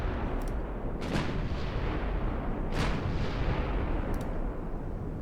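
Battleship guns in the WWII naval game Ultimate Admiral Dreadnoughts boom in a few heavy, rumbling salvos over a dense continuous roar of battle, loud and reverberant, with no speech.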